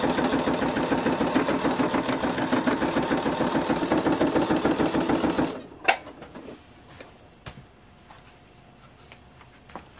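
A sewing machine stitches a jacket and its lining in a steady, close, rhythmic mechanical whir for about five seconds, then stops, leaving faint clicks and handling noise.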